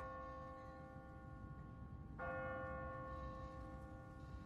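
An automatic church bell rings on a timer in The Walking Dead video game. A humming tone already hangs in the air when a fresh strike lands partway through and rings out with long, fading overtones, faint and somewhat distant.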